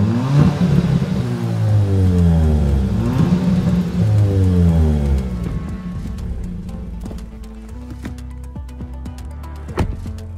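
Kia ProCeed GT 1.6-litre turbocharged gasoline engine with a 7-speed dual-clutch transmission, revving up and down repeatedly in loud rising and falling sweeps, then settling to a steadier hum with a few sharp clicks near the end.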